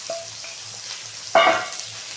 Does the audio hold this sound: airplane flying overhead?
no